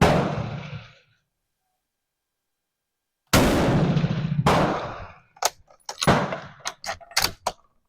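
A 1903 Springfield rifle firing at a target outdoors: a sharp, loud blast that rings out and decays, then a second report, followed by a quick series of clattering metallic clicks and clacks, all close with no talk.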